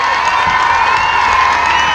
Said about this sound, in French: un tonnerre d'applaudissements s'il vous plaît pour tous ces enfants